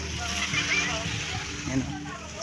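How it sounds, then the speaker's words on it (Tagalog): Sea water sloshes and splashes at a beach in Zambales, a steady close wash of waves with a faint voice in the background. "Nandito kami ngayon sa dagat."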